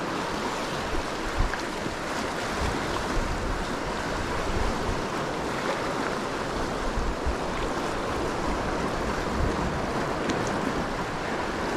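Waves wash continuously onto a shore as the tide runs out at an autumn bass fishing spot, a steady broad rush of surf with wind noise and no voices.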